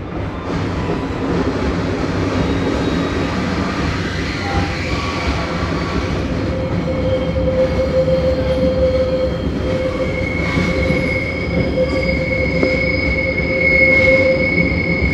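Short Metra North Central Service commuter train of three or four cars running on rails toward O'Hare, a steady loud rumble with a sustained wheel squeal and hum, heard from inside throughout with no talking.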